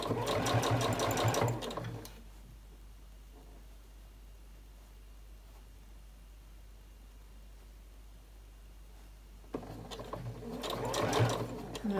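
Sewing machine stitching a bag in two loud, close bursts at the start and end, separated by a long quiet stretch with only faint background hiss.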